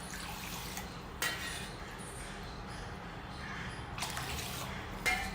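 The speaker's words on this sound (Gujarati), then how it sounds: "એટલે આપણે અત્યારે આ 5 વાટકી આપણે પાણી ઉમેરી લઈશું" Quiet, continuous pouring of five bowls of water into a pot of dal and rice for khichdi, with a couple of soft clunks of a container against the vessel.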